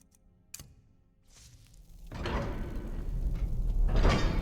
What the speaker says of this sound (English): Let me get the door.